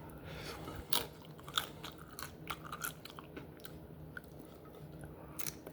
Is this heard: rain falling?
no